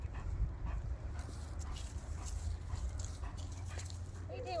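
A pet dog named Rip pants and whimpers close by in a garden with raised beds, the breathy panting running steadily under outdoor background noise.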